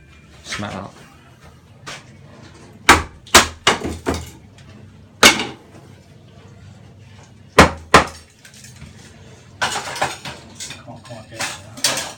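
Sharp, loud knocks of a lump hammer striking a wooden window sill come in irregular single blows and short clusters, separated by quieter pauses with background movement.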